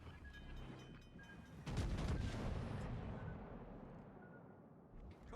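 Naval gunfire in World of Warships: Legends: a heavy booming salvo bursts out, then rumbles and fades over several seconds under faint background game sounds.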